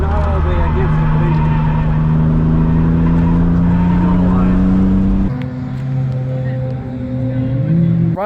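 A 250,000-mile BMW M3 on a race track, its engine note climbing loudly through rising revs, dropping with a gear change and rising again from inside the car, with voices heard over it.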